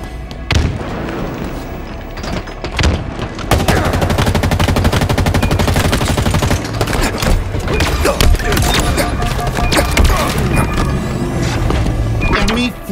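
Rapid automatic gunfire and explosions from a Halo Infinite multiplayer match. Bursts pop almost without pause over a steady din, with game voice callouts mixed in.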